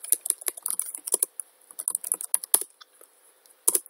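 Username and password typed on a computer keyboard at a Cisco device login: quick bursts of close, crisp key clicks with brief pauses, ending in a single firmer tap.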